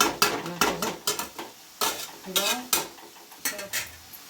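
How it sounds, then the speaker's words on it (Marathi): A spoon scrapes and clinks against a metal pan in repeated stirring strokes while tomato chutney cooks, up close, with a faint sizzle underneath. "हे असं सगळं मिक्स करून घ्यायचं"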